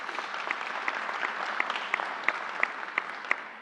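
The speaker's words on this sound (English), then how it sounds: "Let's give her a round of applause." Applause from an audience at a New York COVID vaccination press briefing, a steady patter of clapping with sharper individual claps standing out at regular intervals, moderately quiet and heard alone without voices.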